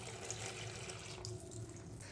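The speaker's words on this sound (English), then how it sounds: "So first, let's go ahead and turn on the hot water." Hot water from a sink tap runs steadily into a bowl, a soft, continuous close-up splashing and trickling with a faint hum underneath and no talking.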